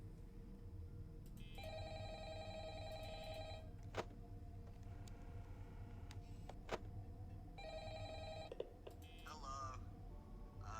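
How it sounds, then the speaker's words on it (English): A video game telephone rings in repeated electronic bursts, steady and fairly faint over a constant background hum, with a few sharp clicks and some talking between the rings. "Oh, getting another phone call."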